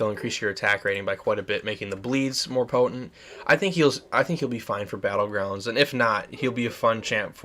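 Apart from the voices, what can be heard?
No everyday noises stand out.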